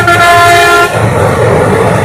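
Passenger train No 53056 on the Ahmadpur to Azimganj line running beside a bus: a loud, close horn blast that cuts off into a heavy rolling rumble.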